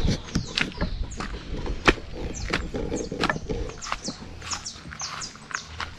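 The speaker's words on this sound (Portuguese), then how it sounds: "Canto do passarinho." Small birds sing in a country smallholding garden near araucaria trees, with quick high chirps and twitters repeating across the whole stretch over a background of soft clicks and rustling.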